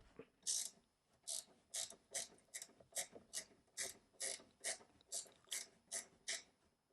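Stubby flex-head ratcheting wrench loosening a 12 millimeter bolt: about fourteen quick, evenly spaced ratchet clicks in a steady rhythm, close and fairly quiet, with no talking.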